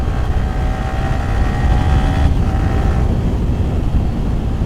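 A Yamaha R15 V3 motorcycle engine hums at moderate throttle while riding on a bumpy road, with a steady tone over heavy wind rumble. The pitch shifts slightly midway.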